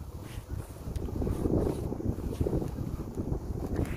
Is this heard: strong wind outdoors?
yes